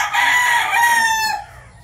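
A breeder rooster crows once nearby, a loud, strained cock-a-doodle-doo that holds for about a second and a half, then fades out.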